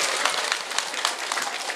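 A crowd at a religious gathering claps together, a bright, dense, continuous patter of many hands at moderate level with slight surges, no speech over it.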